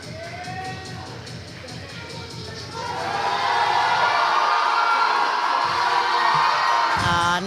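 A crowd at a USA Powerlifting meet, the Titan Barbell Open, shouts and cheers for a deadlift attempt, building from scattered yells into a loud, sustained roar.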